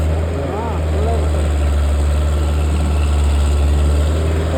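A farm tractor's engine runs at a steady, heavy low drone near a trolley being loaded, with voices talking faintly over the constant rumble.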